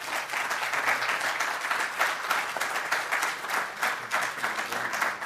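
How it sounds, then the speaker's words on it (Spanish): Sustained applause from an audience for invited guests after a coffee-break talk on auditing trading desks, many hands clapping steadily and fairly loudly throughout, with no voices on top. "Yo les pido por favor un aplauso para nuestros invitados"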